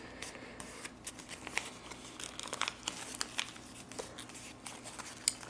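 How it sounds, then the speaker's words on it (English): Paper being folded into a paper F-14 Tomcat airplane wing, close soft crinkling and creasing with small sharp crackles, faint and intermittent. "We're just going to push that wing down into that fold and fold it back up the other direction"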